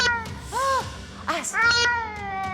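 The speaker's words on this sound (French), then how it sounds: "Ah, il y a un chat. J'entends les chats." A cat outdoors in a square lets out several drawn-out, tonal meows and growling cries, loud and close, with a person talking over and between them.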